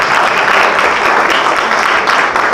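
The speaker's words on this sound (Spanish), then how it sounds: "hay que dar un aplauso a los expertos" Seminar audience applauding the experts on an advisory commission panel, loud continuous clapping from a crowd in a hall, with no speech over it.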